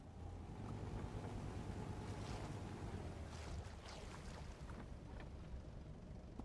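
A boat engine drones steadily in Rust, a low rumbling hum under broad wash of water and wind noise, continuous and fairly loud with no talk.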